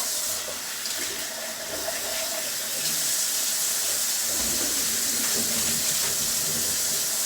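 Rice is rinsed under a running kitchen tap to wash off the starch, giving a steady hiss of flowing water with soft swishing as the grains are agitated in the bowl.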